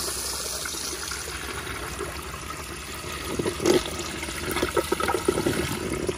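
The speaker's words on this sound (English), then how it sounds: "let me go give y'all another flush like this, just so you can see the rim jets" A new-old-stock URC Colby urinal flushes with water rushing through the rim jets, then a weak siphon gurgles in the trap; steady close flow with louder bursts toward the end, no talking.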